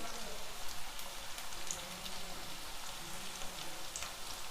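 Bitter gourd pieces frying in hot oil for pickle, a soft, steady crackling sizzle throughout, faint and continuous with no talk over it.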